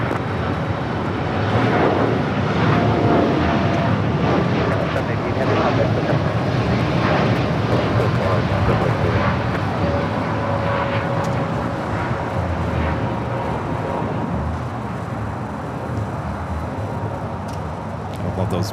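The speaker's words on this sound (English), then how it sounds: "The United Dreamliner coming up from Tokyo Haneda, about to touch down there on the north side" A United Boeing 787 Dreamliner arriving from Tokyo Haneda touches down on the north side of LAX, a loud, steady jet roar with a faint whining tone that holds throughout and eases slightly near the end.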